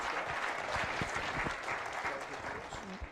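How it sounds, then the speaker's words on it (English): A crowd at an agricultural pasture symposium gives steady applause, with even, continuous clapping heard at moderate distance. "I want everybody to give Gary Lacefield a big round of applause"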